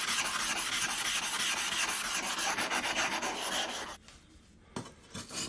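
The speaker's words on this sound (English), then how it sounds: "He corrects the shape of the blade, using coarse grindstones to remove any excess surface metal." A Japanese samurai sword blade rubbed on coarse grindstones in foundation polishing, a close, loud, continuous rasping scrape with rhythmic strokes that cuts off near the end, leaving a quieter pause and a few shorter scrapes.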